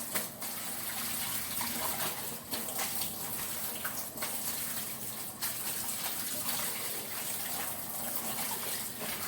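Steady lukewarm water pours continuously from a tap, a broad even rush with small splashy fluctuations throughout, for washing collard greens.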